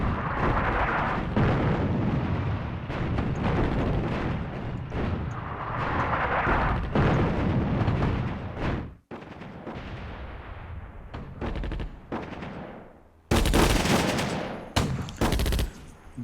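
An anti-tank gun firing at 8th Hussars tanks in Attack at Dawn: North Africa, Operation Crusader: loud dense battle noise with booming shots and rumbling, a brief drop, then sharp heavy blasts near the end, no talk.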